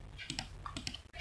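A computer keyboard tapped a few times in quick succession, crisp close clicks of keys being pressed while deleting text, quiet and without speech.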